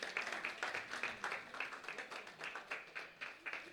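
Rhythmic clapping from an audience at an awards ceremony, moderately close and steady, with no voices over it.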